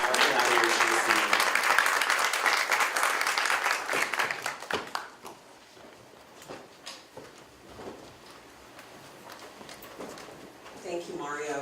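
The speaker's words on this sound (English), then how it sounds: "Please give her a round of applause." An audience at a Sunday afternoon editors' event claps in a burst of applause that fades after a few seconds, followed by quieter room sounds and a voice beginning to speak near the end.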